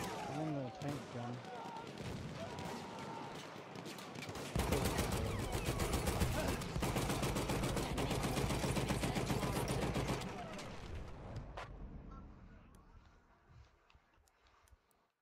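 An anti-tank gun fires in the video game Battlefield 1, with dense, heavy gunfire and blasts holding loud for about six seconds. A voice can be heard before the shooting, and quieter battle noise trails off afterward.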